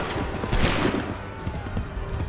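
Musket volley fire in a battle scene in Assassin's Creed 3 Remastered, a dense crackle of shots with a brief louder burst amid continuous battlefield din.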